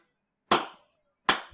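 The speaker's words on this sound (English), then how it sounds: "Slow clap," Two sharp, isolated hand claps about three-quarters of a second apart, each ringing briefly before silence, a deliberate slow clap with nothing else around it.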